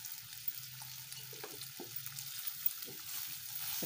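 Potato slices cut like chips fry in hot oil with a faint, even sizzle, punctuated by a few soft stirring scrapes and light taps.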